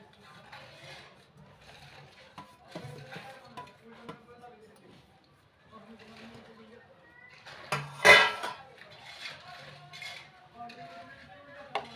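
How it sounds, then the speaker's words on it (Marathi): Rava appe batter being stirred with a spoon in a metal bowl as the ingredients are mixed in, with steady scraping and clinking strokes and one sharp loud knock near the end, while someone talks over it. "बॅटर घेतलेले आहेत त्यात आपण सगळं साहित्य एकत्र करू"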